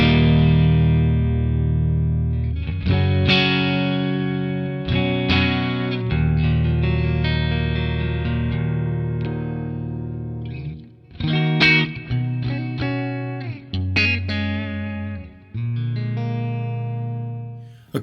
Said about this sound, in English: here's the guitar running into the tube amp expander with the Duchess.